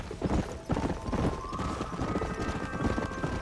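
Steady hoof clip-clops from a horse in Red Dead Redemption, trotting rhythmically, with game background sound and a faint tonal hum.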